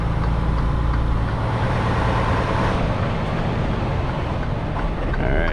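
A semi truck's tractor engine rumbles steadily and loudly up close while the rig backs into a delivery dock, with a constant low drone throughout.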